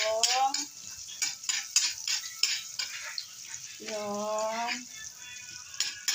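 Garlic browns in a frying pan with a soft sizzle as a utensil clinks and scrapes while stirring, and a voice briefly speaks in the middle.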